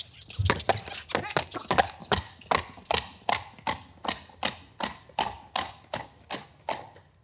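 A young dressage horse trots on a hard surface during a lameness check after a flexion test, a steady rhythmic clip-clop of hooves close by that keeps an even beat throughout, with people talking over it.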